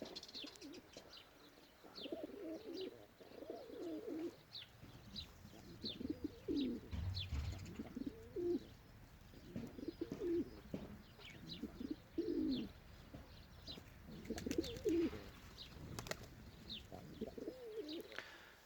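Breeding pigeons freed from a garden loft give repeated soft cooing calls in rhythmic bursts, with scattered chirps and brief wing flaps, fairly close and alone without talk.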